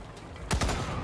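A turret in the Wasteland 3 video game lets off a quick double burst of gunfire, two sharp reports close together over a steady game ambience.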